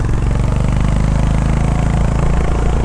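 A Honda CB 350 RS motorcycle engine runs loud and close, its throaty thumping pulse steady and throbbing throughout, as if held under throttle, with no voices.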